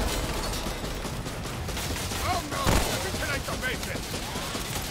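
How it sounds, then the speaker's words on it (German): Gunfire from a cannon weapon in the video game Remnant: From the Ashes, a dense rattling barrage with one sharp louder blast near the middle, heard close over steady game noise. "Oh, meine Kanone ballert."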